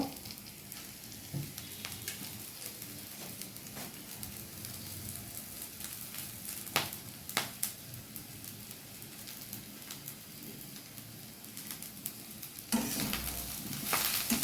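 Chechi saag greens sizzle and crackle as they are fried and stirred in a wok with onions, dried chillies and crushed garlic, with steady scraping strokes and louder bursts near the end, no talking.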